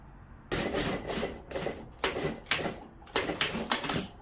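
Sewing machine stitching a thick round chair cushion cover in short rattling bursts, several quick runs separated by brief pauses, close and fairly loud.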